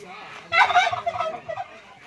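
A turkey gobbles loudly and close by, a single burst of rapid, warbling calls with a quieter tail trailing off.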